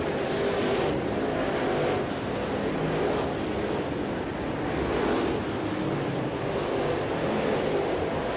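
Dirt-track race cars roar past in a feature race. The engine noise swells and fades in repeated broad waves as cars pass one after another, loud and continuous, with no talk.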